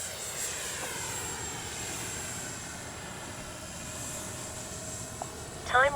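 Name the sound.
Freewing BAe Red Hawk RC jet flying with gear up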